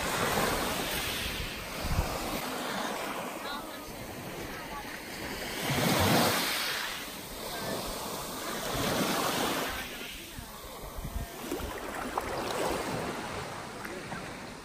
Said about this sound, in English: Guardate che bello il mare oggi. The sea is beautiful.